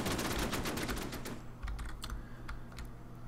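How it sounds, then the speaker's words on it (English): Rapid gunfire from a fighter aircraft's gun in the WWII strategy game Order of Battle, US Marines at Bougainville, a dense burst of quick shots in the first second and a half, then scattered sharper pops trailing off. "I like the sound of that gun."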